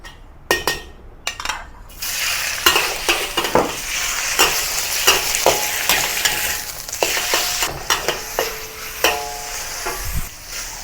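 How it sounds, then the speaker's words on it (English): Oil sizzles and crackles steadily as chicken fries in a wok, punctuated by clinks and scrapes of a utensil stirring against the pan. "add some oil into the wok to fry the chicken"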